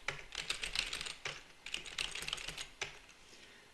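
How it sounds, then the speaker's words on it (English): Rapid typing on a computer keyboard, close and crisp, with irregular bursts of key clicks and short pauses between them, no voices. "keep typing,"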